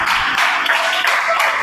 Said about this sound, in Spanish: ¿Cuánto dan un fuerte aplauso a su santa y divina palabra?